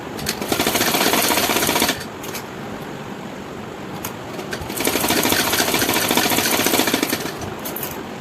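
A sewing machine stitching the main fabric of a blouse, running in loud, close, rapid mechanical bursts of about two and three seconds separated by a quieter pause.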